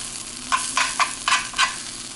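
Grilled cheese sandwich sizzling in a pan, a soft continuous fry with several rhythmic scraping shuffles as it is moved around, close and with no voices.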